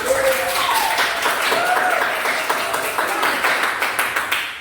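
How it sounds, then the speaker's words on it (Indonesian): Students clap together in a classroom for a few seconds after a teacher's prompt, a close, scattered patter of hands that thins into separate claps at the end. "tepuk tangan untuk semua"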